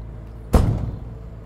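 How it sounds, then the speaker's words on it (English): A storage compartment door on a 2022 Renegade Valencia 38RB motorhome shuts once with a single solid, heavy thud, followed by a brief low rumble fading out. "I really like the sound of these doors shutting."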